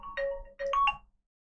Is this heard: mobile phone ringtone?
yes